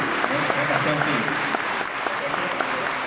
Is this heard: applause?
yes